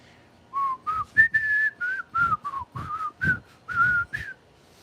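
Someone whistles the opening theme of The Simpsons alone while walking, a short, bouncy melody of quick, clear pitched notes with brief gaps and faint footsteps underneath.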